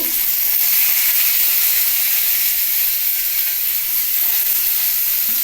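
Potato pieces drop into a hot pan of oil already holding curry leaves and dried chilli, giving a loud, steady, close sizzle and hiss that holds evenly throughout.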